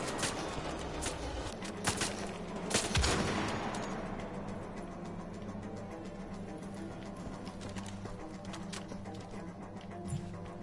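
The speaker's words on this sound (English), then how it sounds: "Just need to shoot something." Gunfire in Wolfenstein: The Old Blood, with a few sharp shots near the start and one loud burst around the third second, then fading reverberation over a low, steady game background.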